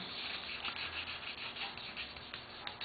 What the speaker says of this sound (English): sand the edges, or we cut it with the X-Acto